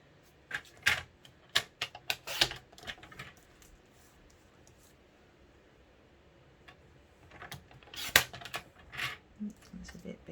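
Scissors snip around a stamped paper label for a gift bag, sharp close clicks and cuts in two short bursts separated by a quiet pause.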